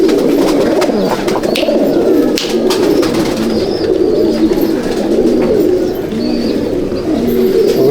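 Rutila pigeons in a loft give a continuous chorus of soft, rolling coos that overlap at close range, with faint clicks and shuffles throughout and no talk.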